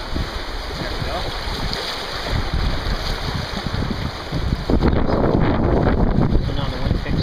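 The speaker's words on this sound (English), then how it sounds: "So now the wind picks up." Wind gusting over a river around a solo canoe in the Delaware Water Gap, a steady broadband rush with water noise that grows louder and rougher in the second half, buffeting the microphone.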